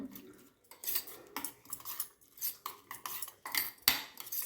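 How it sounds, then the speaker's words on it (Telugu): A utensil whisks an egg mixture seasoned with chili powder for bread omelette, clinking repeatedly against the bowl in quick uneven bursts, close and fairly loud, with no talking. "ఎగ్ మిశ్రమాన్ని బాగా కలుపుకోవాలి"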